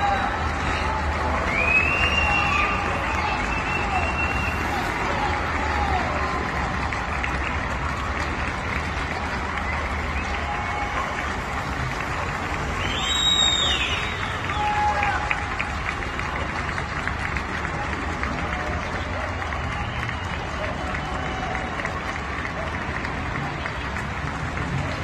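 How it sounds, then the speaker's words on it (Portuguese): Recorded crowd applause and cheering in tribute to Paulo Gustavo, a steady wash of distant clapping and crowd noise with faint whistles rising here and there. "a homenagem e os aplausos para Paulo Gustavo"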